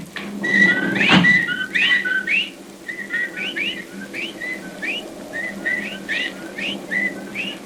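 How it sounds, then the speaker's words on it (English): Whippoorwill calls used as a sound effect in a 1945 radio drama, with a series of clear, repeated whistled bird phrases in a steady rhythm that sound close and prominent. "Well, there are the whippoorwills."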